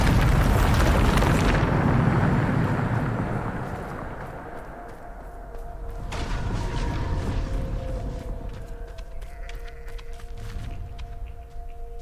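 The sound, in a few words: explosion from Bombarda spell in the Hogwarts Legacy video game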